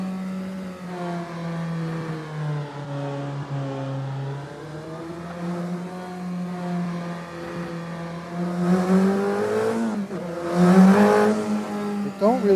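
An engine drones steadily in a car sound effect with tire squeal. The pitch wavers gently, then it swells into louder, rougher bursts toward the end.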